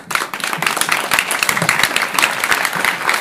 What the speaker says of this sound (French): C'est pas encore à votre tour d'applaudir